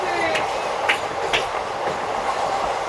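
A passenger train bound for Rampurhat rumbles along from inside a carriage, loud and steady, with rhythmic clickety-clack wheel beats every half second or so.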